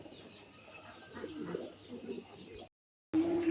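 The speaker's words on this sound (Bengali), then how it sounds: "এখানে ওভার লাইট কালারের এক পেয়ার সুপার মিলি কবুতর" A pair of light-coloured pigeons cooing close by, soft repeated throaty coos across a few seconds before a brief silence and a louder final coo.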